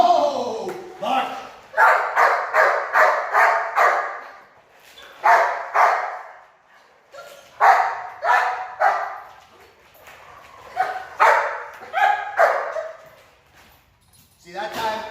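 A dog barks in energetic bursts during a game of ball play: clusters of sharp, loud barks and yips, close by, separated by short pauses across the whole stretch.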